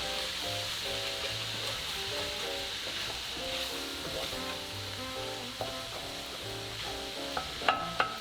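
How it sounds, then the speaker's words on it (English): Onions and bell peppers sauteing in a pan, a steady close sizzle with soft stirring scrapes and a few sharper clicks near the end. "we're going to sit there and saute our onions and bell peppers like we did last time"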